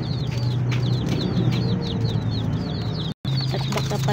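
Rhode Island Red chickens cluck and chirp repeatedly in a coop, a steady run of close, moderately loud calls over a low background hum, briefly cut by a short gap near the end.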